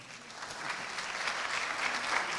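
Audience applause fills a festival-of-ideas talk hall, a dense steady clapping from a crowd that swells slightly toward the end, with no talk over it.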